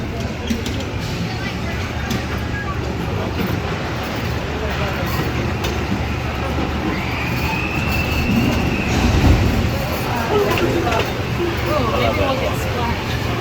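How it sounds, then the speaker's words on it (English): Blue amusement park train at Indiana Beach rolls along its track near the log ride, a continuous close rumble with wheel squeal and clatter, while people talk nearby. "We're on the blue train here today."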